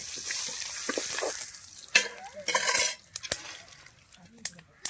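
Mustard seeds fry in hot oil in a pan for a crab dish, making a bright hissing sizzle with sharp popping crackles and scraping stirs. The sounds are close, uneven and bursty, with some faint talk underneath.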